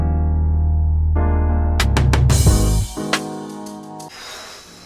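A produced beat with sustained synth chords builds into a burst of self-programmed drum fills, rapid snare and percussion hits tumbling in quick succession before the groove thins out, loud and close, no talking.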